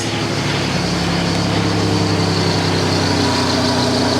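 A 1987 Buick Grand National engine idles smoothly and steadily, a close, even low rumble with a faint mechanical hum and no speech.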